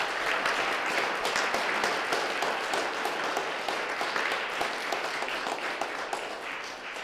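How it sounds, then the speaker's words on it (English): Sustained applause from guests at an antique pedal car exhibit evening, many hands clapping densely with crisp individual claps, tapering gradually near the end. "So a round of applause for our collectors."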